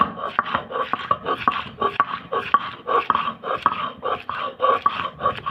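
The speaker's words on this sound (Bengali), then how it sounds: "পাটাটা এখানে পাটাটাও ধুয়ে রেখেছি এখন ডালটা আমি বেটে নিব" Soaked masoor lentils are being ground by hand on a stone grinding slab (pata), giving a steady rhythmic rasping and scraping with repeated strokes, close and fairly loud, with no voices.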